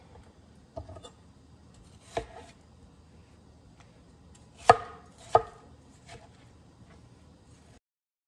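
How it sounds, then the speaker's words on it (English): A knife chops tomatoes for home canning, giving a few scattered, sharp cutting knocks with quiet pauses between them, one louder pair near the middle, and no voices. "I'm just gonna get these all chopped up"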